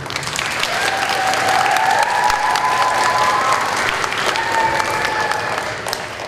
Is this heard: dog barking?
no